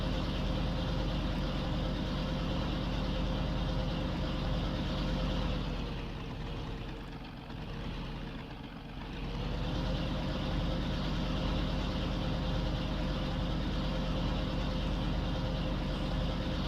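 A tractor engine in Farming Simulator 19 idles in a steady, loud drone that dips and softens briefly midway before returning to its constant hum.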